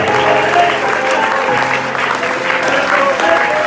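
A congregation at a Pentecostal church service in Popayán applauds, steady crowd clapping layered with sustained music tones and a murmur of voices underneath.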